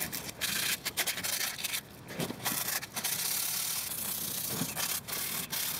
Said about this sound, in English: I sanded all the spots on this that I wanted to get to with the more coarse sandpaper